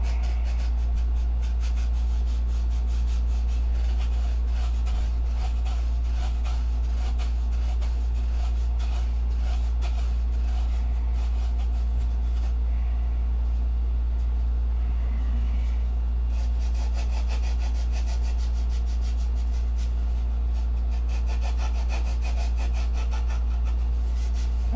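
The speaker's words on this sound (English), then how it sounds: "got my sandpaper roll here, 80 grit. We're going to sand to the line" An 80-grit sandpaper roll sanding a model aircraft stabilizer to a line, a steady raspy rubbing that carries on throughout over a constant low hum, with stretches of louder, denser strokes.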